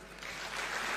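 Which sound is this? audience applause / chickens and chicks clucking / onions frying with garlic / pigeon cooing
audience applause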